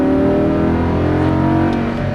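A Lamborghini Huracan LP610-4 at full throttle on a racetrack, its engine holding a loud, steady, close roar with dense harmonics and no break.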